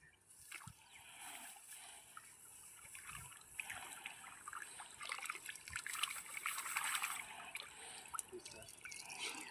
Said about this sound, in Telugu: ఒకసారి అది కడగండి.